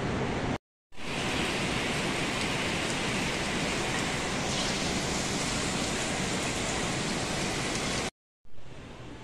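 Steady heavy rain pours during the rainy season, a dense continuous hiss that fills the scene, broken briefly by two short gaps, with no voices.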